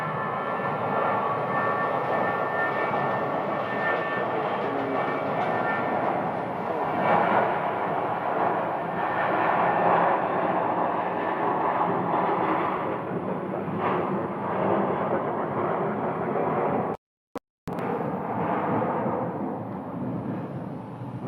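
An American Airlines A320 rolls for takeoff on the runway at Phoenix Sky Harbor, its jet engines building into a loud, sustained roar, briefly cut out for a moment near the end before resuming.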